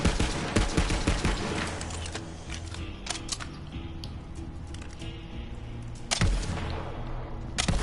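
Jakobs assault rifle fire in Borderlands 3, with dense rapid bursts of shots over the first two seconds, sparser shots in the middle, and a loud fresh volley near the end, all close and sharp with no talking.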